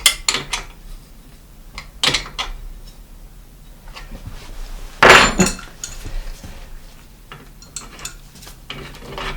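A crank puller is threaded by hand into an old bicycle's three-piece bottom bracket crank, giving scattered close metallic clicks and clinks with one louder rattling burst midway, in a fairly quiet room.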